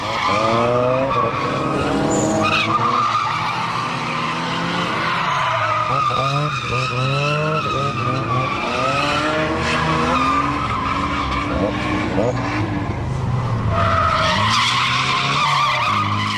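Drift cars slide through tight, winding corners on the Ebisu school course during a drift event, tires squealing in long, wavering, high-pitched screeches over engine noise.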